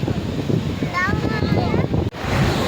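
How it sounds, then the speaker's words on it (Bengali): Strong storm wind and rough sea waves on the beach at Digha, with rain coming in; a steady roaring wash of wind buffeting the microphone and surf runs throughout, with some voices briefly audible. "এই যে সমুদ্রে জোরে বৃষ্টি এসে গেছে, কি জোর ঝড় উঠেছে"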